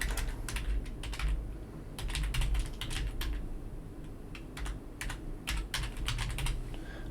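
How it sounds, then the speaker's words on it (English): Quick bursts of keyboard typing, clacking in short runs with brief pauses, close and fairly quiet, with no voices. "So she can read any text that I type here."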